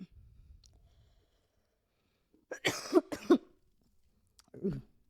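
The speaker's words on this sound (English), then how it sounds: "I haven't stopped coughing for like last 10 minutes" A burst of two or three harsh coughs close to the microphone, followed after a pause by a shorter throat-clearing cough, with near silence around them.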